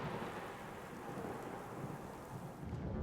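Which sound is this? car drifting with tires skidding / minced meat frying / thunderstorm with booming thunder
thunderstorm with booming thunder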